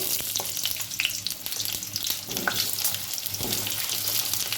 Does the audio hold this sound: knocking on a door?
no